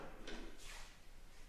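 The wooden door of an old coat closet in a house slides and creaks open in two soft, brief scraping movements, faint against quiet room tone.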